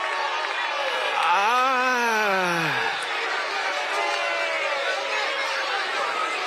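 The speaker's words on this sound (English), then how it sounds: "the home crowd does not like it" Home crowd at a Friday night high school football game, Victor at Webster Schroeder, voicing displeasure at a penalty flag after a big hit: a sustained roar of many voices in the stands, with a loud rising-and-falling boo or groan cutting through.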